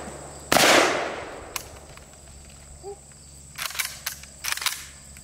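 An AK-47 rifle fires a single loud, sharp gunshot at outdoor target practice, followed by a decaying echo, then a few fainter clicks and rattles of handling.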